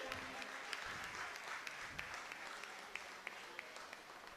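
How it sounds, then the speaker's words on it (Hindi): At an award ceremony, an audience gives faint, sustained applause, a soft continuous patter of clapping with occasional sharper claps standing out. "आपकी तालियों की आवश्यकता अनुभव हो रही है"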